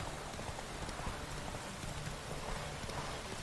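Roach, a horse in The Witcher 3: Wild Hunt, gallops with a steady, rhythmic clip-clop of hooves that runs unbroken for the whole stretch, fairly close and even in loudness.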